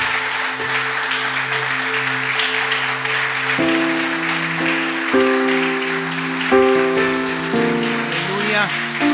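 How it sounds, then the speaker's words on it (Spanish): A church congregation claps for Jesus in steady, dense applause that lasts the whole stretch, with sustained keyboard chords ringing over it. "¿Te animas a darle un aplauso"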